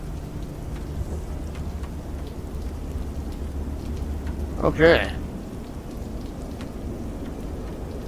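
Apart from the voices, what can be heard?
rain in the video game Microsoft Flight Simulator 2024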